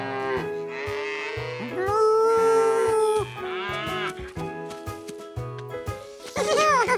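A cartoon cow on a dairy farm lets out several drawn-out, wavering moos, loud and close, set against a bouncy musical score with no talking.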